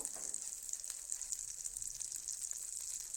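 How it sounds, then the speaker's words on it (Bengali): Green pea paste for kochuri filling frying in a pan, a faint steady sizzle with a soft bright hiss and light scattered crackles throughout. "এখন ভেজে নেব।"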